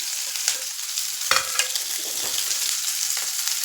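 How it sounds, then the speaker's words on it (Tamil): Steady sizzling of chopped onions sautéing in a pan, with a few clatters of stirring near the start. "போட்டு அதையும் நல்லா வதக்கிடுங்க"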